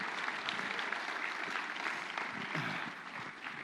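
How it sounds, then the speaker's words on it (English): An audience at a sports social event in New Albany claps in steady, sustained applause that fills the room evenly for several seconds before easing slightly at the end. "Can we get a round of applause for Brent?"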